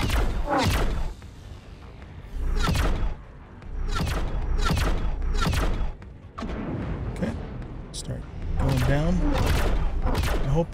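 Plasma cannon fire in the space combat game X4 Foundations, a series of heavy booming blasts with whooshing tails in uneven bursts, loud and close, each shot separated by brief lulls.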